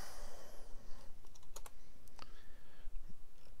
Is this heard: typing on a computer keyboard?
yes